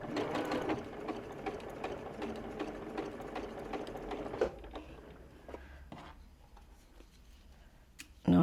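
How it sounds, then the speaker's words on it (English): A sewing machine stitches curved quilt piecing in quick rhythmic bursts, pausing and restarting, with a few handling clicks and quiet stretches. "you're just looking at the next little inch that you're sewing"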